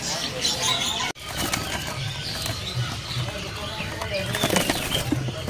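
Caged songbirds at an Indonesian bird market flap their wings in repeated rustling bursts, fairly close, with a brief break and background chatter from people talking.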